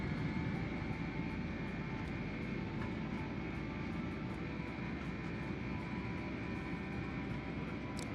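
Airliner jet engines roaring through a takeoff roll in a flight simulator game, a steady dense rumble with a faint regular ticking above it, unchanging and without talk.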